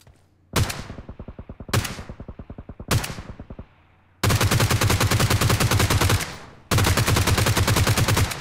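Bursts of G36c assault rifle fire in PUBG Mobile with a 4x scope: three short rapid volleys, then two long sustained strings of loud automatic shots, each ending in a fading echo tail.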